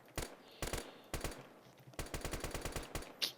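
Roblox Pulse shooter gunfire: several short clusters of sharp shots, ending in a rapid automatic burst of about ten rounds, close and fairly loud with brief gaps between volleys.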